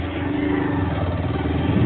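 A Bajaj Pulsar 125 motorcycle ridden along, its mid-pitched engine droning steadily and loudly throughout, with a low rumbling pulse and no voices.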